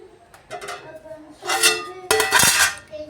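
A lid set onto a pot of prawn curry simmering with tamarind juice and coriander powder, giving a few clear metallic clanks and clinks, one sharp knock near the end standing out loudly.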